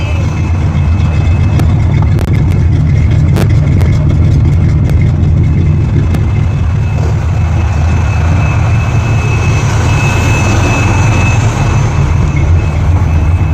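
A steady, rumbling Chevrolet C10 truck engine idles continuously, a low mechanical drone with no speech over it.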